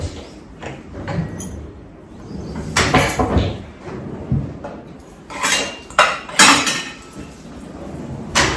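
Steel dishes and plates clink and clatter as a Gudi Padwa naivedya offering with kheer is served, with irregular sharp metallic knocks and scrapes of varying loudness, close by and mostly free of talk.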